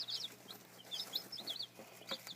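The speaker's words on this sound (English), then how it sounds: "These are my very own chicks, and all chicks are cute" Small chicks peeping and chirping in bursts of quick high calls close by, some overlapping, with a steady low hum underneath and no talk.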